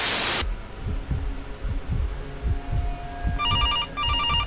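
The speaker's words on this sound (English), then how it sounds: "Got to answer the phone." A telephone rings in a video game, short repeated electronic trills near the end over a low rhythmic throbbing hum and dull pulsing beats, no talking.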